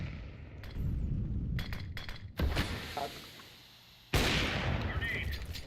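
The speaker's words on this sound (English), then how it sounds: "Throwing a grenade." A grenade lobbed and going off in a first-person shooter, heavy muffled booms with sharp bursts at intervals, mixed with other gunfire and game noise.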